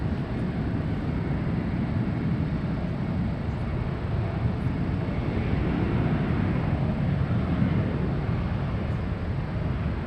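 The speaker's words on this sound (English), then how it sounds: "First is the exec jet." Executive jet taking off at San Francisco airport, a steady, loud low-frequency roar of jet engines that holds without a break, with no voices over it.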